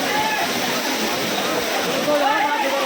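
A loud, steady roar of Paniyari waterfall in Gujarat during monsoon fills the scene, heard right at the falls, with faint voices and brief tonal sounds above it.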